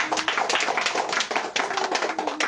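A church congregation clapping their hands together in praise, a dense, steady patter of many claps that carries evenly, close and moderately loud, with no talking.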